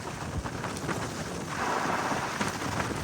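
A steady hiss of summer rain falls in misty hills during a bike trip, with gusts of wind rumbling on the microphone and growing louder midway, and no talk.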